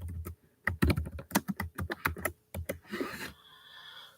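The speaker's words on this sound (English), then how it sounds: "let me type" Rapid typing on a computer keyboard, a dense run of sharp key clicks at close range lasting several seconds, with a brief softer rustle near the end and no talking.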